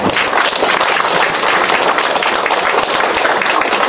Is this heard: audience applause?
yes